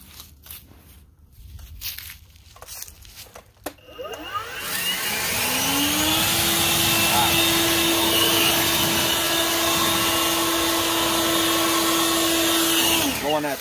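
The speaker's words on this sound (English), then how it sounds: "now we're going to put her on turbo. We're going to try to blow this out over here" A Litheli 40V brushless leaf blower spins up to turbo after a few seconds of quieter handling noise, then holds a loud, steady whine and rushing air close by until it cuts off at the end.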